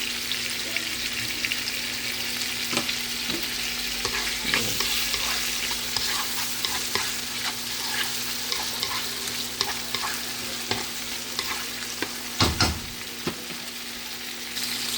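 Steak and shrimp sizzling in a pan while being stir-fried with salt, pepper and garlic powder, a constant close hiss with scattered pops and a few clattering stirring knocks, no speech.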